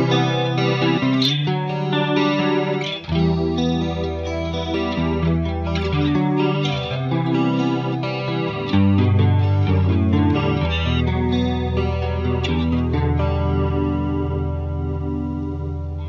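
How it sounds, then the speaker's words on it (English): An instrument played through a Boss chorus ensemble pedal rings out clean and rich, sustained chords and notes shimmering with a steady chorus wobble, loud and continuous for the whole stretch with no talking. "So it's a beautiful, very clean, rich chorus."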